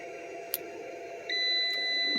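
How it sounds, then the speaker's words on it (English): Mini split air conditioner unit installed in a camper van, beeping as power is reconnected: a faint short click, then a steady electronic tone starting partway and holding to the end over a quiet background hum. "if I connect it back again,"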